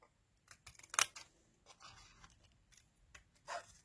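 Scissors snipping paper to shape a mini envelope, a few sharp close cuts scattered among soft paper rustles, with quiet gaps in between.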